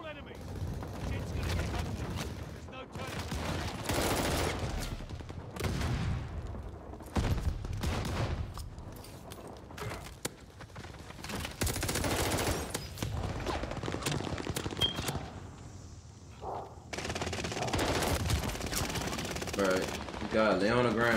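AS-44 assault rifle fire in Call of Duty: Vanguard, long rapid automatic bursts repeating over and over and broken by short gaps, with a player talking over some of the shooting.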